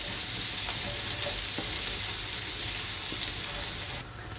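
Lentils fry in oil in a pan while being stirred, a constant dense sizzle with occasional soft scrapes, fading slightly near the end.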